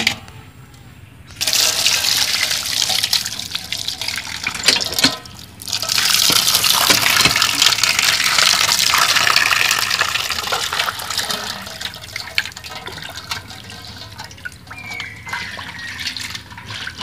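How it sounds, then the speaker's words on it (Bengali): Running tap water pours steadily over cut pangas fish pieces being washed in a sink, a loud continuous splashing gush that stops briefly and resumes, then softens toward the end. "এগুলো ধুয়ে নিব আমি মাছগুলো।"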